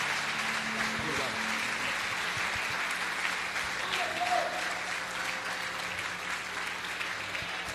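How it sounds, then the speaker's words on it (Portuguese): Sustained applause from a congregation at an evangelical church gathering, a broad, steady roar of many hands filling the room for several seconds, with voices and a faint tonal hum mixed beneath. "Você vai dar o melhor aplauso que você deu a Jesus pela vida do profeta."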